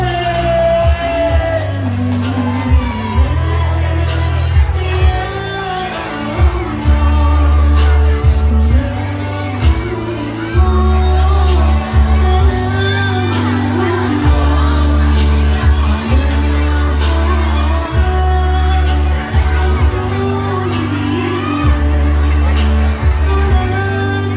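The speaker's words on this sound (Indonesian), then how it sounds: "Tepuk tangan yang meriah buat kelas 3C." An audience at a primary school student fashion show cheers and shouts for a class, with loud crowd noise, whoops and yells running throughout under music and a presenter talking.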